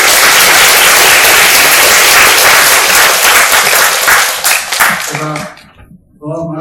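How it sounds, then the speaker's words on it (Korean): An audience applauds loudly and steadily for a professor after a lecture at an international studies forum in a university hall. The clapping is dense and sustained, then thins out near the end as a voice begins speaking. "우리한테 좋은 말씀 해주신 우리 한번 교수님께 큰 박수를"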